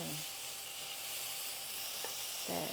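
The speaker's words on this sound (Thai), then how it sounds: "อืมเจียวเบคอนก่อนจริงๆต้องต้องเจียว สักพักหนึ่งอะจนมันแบบกรอบหน่อยนะ" Bacon fries in a pan with a fairly quiet, even sizzle that holds steady throughout, heard alone without speech.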